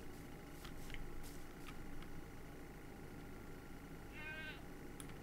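Goats or sheep bleat faintly in the Minecraft video game, with a few short wavering calls over a low, steady background hum, including a clearer bleat near the end.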